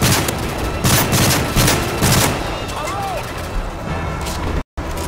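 Rapid bursts of gunfire from the video game Call of Duty: Modern Warfare 3 rattle close and loud in clustered volleys, with voices talking over the shooting.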